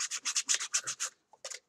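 Sandpaper rubbed by hand over a 3D-printed model rocket nose cone, close and dry, in about ten quick rhythmic back-and-forth strokes, a short pause, then two more scrapes.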